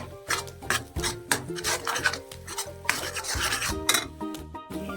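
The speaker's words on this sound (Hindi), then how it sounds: "तो ये ऐसे भूनते रहेंगे हम अच्छे से" Black soybeans are stir-roasted in an iron wok with mustard oil. A utensil repeatedly scrapes and rattles the beans around the pan in a brisk rhythm, loud and close, with no talking.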